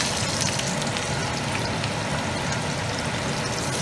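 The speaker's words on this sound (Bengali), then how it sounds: "এইভাবে প্রত্যেকটা চিংড়ি মাছ আমি তেলে ছেড়ে দেব।" Raw prawns laid into hot oil one by one for a Chinese-style Bangladeshi prawn fry, giving a steady, dense sizzle and bubbling that stays even and close throughout without pause.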